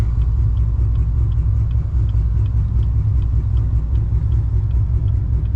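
A 900hp manual Chevrolet Camaro ZL1 engine idles with a lumpy, uneven chop, a steady low rumble pulsing rhythmically throughout, close and loud with no talking.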